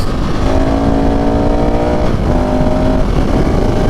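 A KTM 690 SMCR single-cylinder supermoto engine drones steadily and loud while riding on a road, its pitch climbing in two long pulls with a brief dip around the middle.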